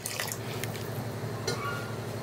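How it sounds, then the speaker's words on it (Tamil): Water trickles and splashes softly into a pot of Kerala onion curry (ulli theeyal), a faint liquid pouring sound over low background noise. "நான் கொஞ்சம் தண்ணி சேர்க்குறேன்"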